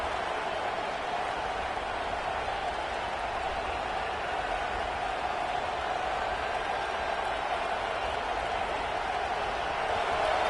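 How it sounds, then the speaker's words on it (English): A fired-up football stadium crowd at an LSU game roars in a continuous, dense wash of noise, steady and loud throughout with a slight swell near the end. "this crowd is fired up. Listen to this noise here."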